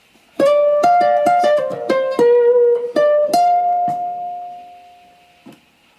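Ukulele plays the third section of a song's solo, a quick run of bright plucked notes ending on a held ringing note that fades out, close and alone with no talking.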